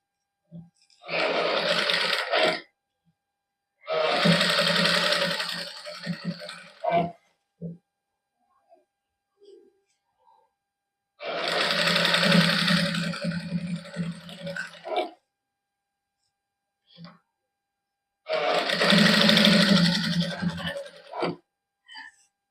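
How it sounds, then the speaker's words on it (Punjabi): A sewing machine stitches work-embellished organza fabric onto a simple suit, running in four loud bursts of a few seconds each, separated by near-silent pauses. "ਇੱਕ ਸਲਾਈ ਆਪਾਂ ਲਾ ਲਈ ਹੁਣ ਇਧਰਲੀ ਸਾਈਡ ਤੇ ਵੀ ਲਾ ਲੈਨੇ ਆ ਸਲਾਈ"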